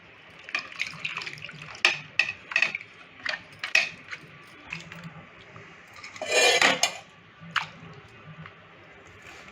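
Grated potatoes being rinsed and handled in water in a home kitchen, with intermittent clinks of a vessel, soft wet squishes and one longer burst of splashing midway, close and moderately loud.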